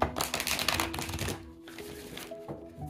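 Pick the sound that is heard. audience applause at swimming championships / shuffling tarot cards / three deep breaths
shuffling tarot cards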